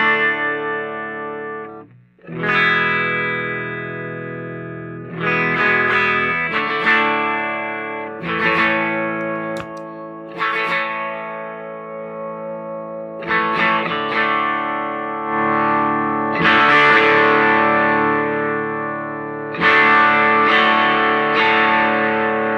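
Electric guitar played through a Greer Lightspeed overdrive clone pedal, sounding loud, crunchy sustained chords and riffs that ring out and shift every couple of seconds, with no talking.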